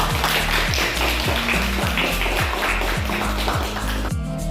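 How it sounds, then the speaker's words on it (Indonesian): A classroom of schoolchildren claps together with their teacher, a dense, steady wash of many hands sounding alongside a rhythmic low musical pattern for the whole stretch. "Tepuk tangan semua"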